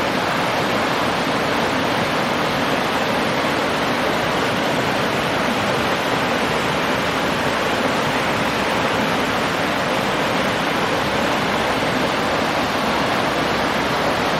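A creek beside Lake McDonald Lodge in Glacier National Park on the first day of winter rushes steadily, a dense, even broadband roar of flowing water close by with no pauses.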